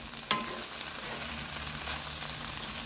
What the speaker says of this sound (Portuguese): Só dar uma refogadinha, né, porque isso ainda vai ficar bastante tempo no forno